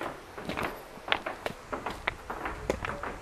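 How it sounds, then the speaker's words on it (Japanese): Footsteps of someone walking along a connecting corridor, a quick irregular series of light thuds and clacks heard a little way off, with no talk. "あのバタバタ言ってるのは渡り廊下、誰か歩いてる音か。"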